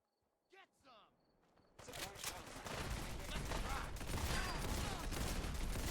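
Gunfire in Fallout 4 during a fight with gunners, a continuous dense rattle of overlapping shots that builds and holds loud for several seconds after a brief voice at the start.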